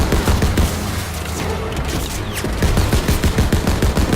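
Dense, rapid gunfire fills a battle in the World War II shooter Call of Duty WWII, sustained loud bursts with booming impacts and no clear talk.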